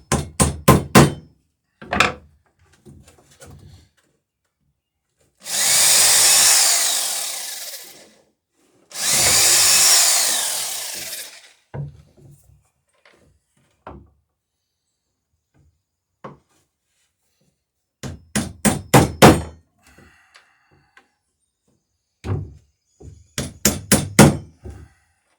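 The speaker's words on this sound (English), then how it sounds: "Put a nail in to hold everything while I drill the rest." Hammer blows drive a nail into wooden floorboards in sharp rapid bursts, interrupted by two long, loud whirs of a power drill boring into the boards, with quieter knocks and shuffling between.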